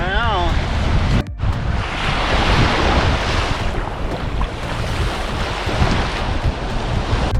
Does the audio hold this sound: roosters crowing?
no